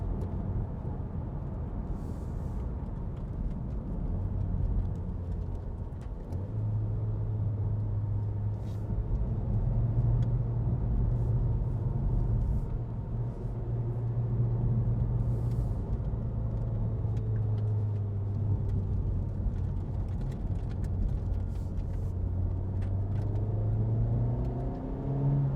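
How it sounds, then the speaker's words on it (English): A 2017 Honda Civic Type R with its 2.0 i-VTEC engine hums steadily while driving, a continuous low drone whose pitch rises and falls with gear changes and throttle, heard from inside the cabin over road rumble. "Lovely engine noise."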